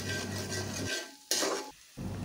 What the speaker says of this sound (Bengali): এরপর কাঁচামরিচ দিয়ে আবার কিছুক্ষণ নাড়াচাড়া করব।